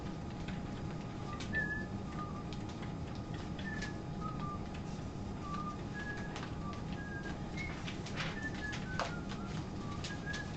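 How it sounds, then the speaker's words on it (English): Scattered short bird calls, including soft coos like a pigeon or dove, sound repeatedly at a moderate distance over a steady indoor hum, with no one speaking. "There's a bird."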